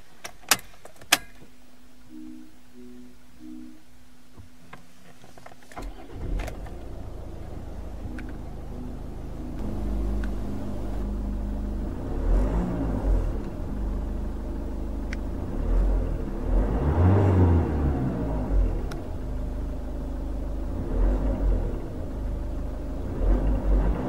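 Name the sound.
2008 Mazda 6 TS2 car engine starting and revving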